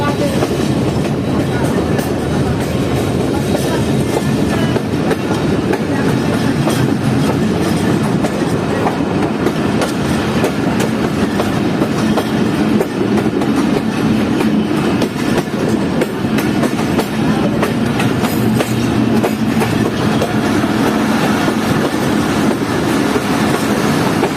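A Pakistani passenger train, the Fareed Express, rolls through Khanpur Junction with a continuous loud rumble and steady wheel clatter lasting the whole stretch, heard up close from on board.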